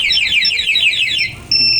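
A Suzuki Access scooter's anti-theft alarm warbles loudly in rapid repeating electronic sweeps up close, pauses briefly, then switches to a steady high-pitched tone.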